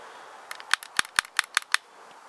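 Metal bolt of a Gevarm E1 semi-auto .22 rifle is drawn back and locked, a close, crisp run of about eight sharp mechanical clicks and snaps within a second or so, in quiet surroundings.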